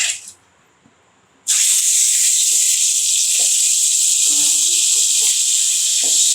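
Three quarters of a kilo of washed chicken hits hot oil spiced with turmeric and cinnamon, setting off a loud, sustained hiss of sizzling after a short quiet pause, with faint clinks of a spoon beneath.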